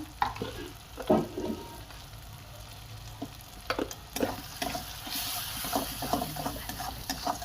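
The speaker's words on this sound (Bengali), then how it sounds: "ভালো করে এবার নাড়িয়ে নেবেন" Spices with turmeric, chilli and salt fry in oil for katla fish kalia while a spatula stirs them, giving a steady close sizzle broken by irregular scraping knocks against the pan, with no talking.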